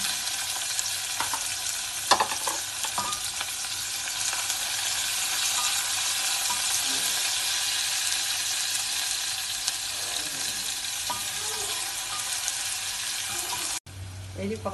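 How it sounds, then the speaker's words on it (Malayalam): Thinly sliced small onions and curry leaves frying in a pan for a Kerala potato koottucurry, a steady soft sizzle with a few stirring clinks, fairly quiet and unbroken for about fifteen seconds. "ചെറുതായി റൗണ്ടിൽ അരിഞ്ഞ് വെച്ചിരിക്കുന്ന ചെറിയ ഉള്ളിയാണ് ഇത്, ഒരു 100 ഗ്രാം ഉള്ളിയാണ് ഞാൻ ചെറിയ ഉള്ളിയാണ് ഇതിൽ ചേർക്കുന്നത്"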